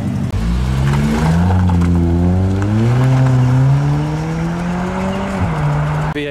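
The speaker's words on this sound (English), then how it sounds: "Okay, different type of V8 sounds." A custom classic car with a V8 engine revs loudly nearby, its deep tone rising and holding in steady climbs before dropping slightly near the end, with no speech heard.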